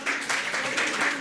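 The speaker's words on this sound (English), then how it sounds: "Clapping is now in order." Delegates at a formal resolution vote break into brief, dense applause, a steady wash of many hands clapping together from close by, lasting about a second with no talk over it.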